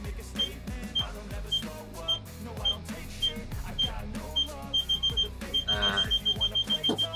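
Car reversing sensor beeping while the car backs up, with a high, thin beep repeating steadily and then speeding into rapid beeps near the end, heard over engine rumble, clunks and some talk.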